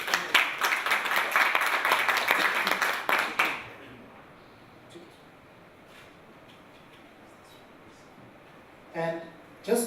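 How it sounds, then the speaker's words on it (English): An audience at a product management talk applauds loudly with dense, rapid clapping for a few seconds, then it stops abruptly. A quieter stretch follows, and a voice speaks near the end. "Can you please give a round of applause?"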